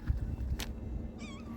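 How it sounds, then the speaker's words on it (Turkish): A cat meows once, briefly and fairly faint, over a steady low hum and background noise at a maintenance site. "Gittiğimiz yerde bir kedimiz var bizim."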